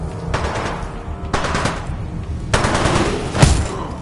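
Automatic weapon fire in the video game Titanfall 2, several loud, close bursts of rapid shots separated by short gaps, with a sharper single crack near the end.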